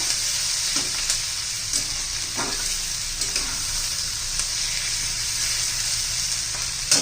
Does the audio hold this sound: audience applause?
no